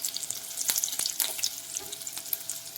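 Thinly sliced shallots frying in coconut oil, a crisp, crackling sizzle with spitting pops and a few stirring clicks, close and steady, no talking.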